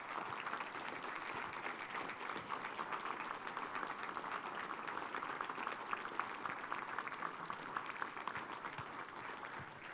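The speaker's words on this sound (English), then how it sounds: "take a moment to applaud and acknowledge your parents" A crowd at a 2018 Eagle Scout dinner applauds the scouts' parents, steady dense clapping that fills the room for ten seconds.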